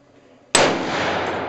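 A single sharp gunshot cracks loudly and close after a moment of near quiet, its blast ringing out and decaying slowly over the following second.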